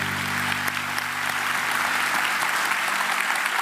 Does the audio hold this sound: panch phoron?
no